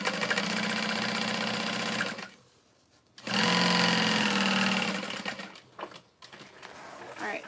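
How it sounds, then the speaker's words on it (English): A sewing machine runs in long steady bursts stitching across the top of a thick waterproof canvas tote bag, stopping briefly in between, loud and close. "So sewing over the entire top."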